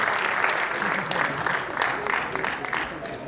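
Crowd applause at a theatre festival award ceremony in an auditorium, steady clapping with swelling bursts throughout, and voices talking underneath.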